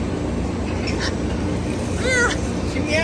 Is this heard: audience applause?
no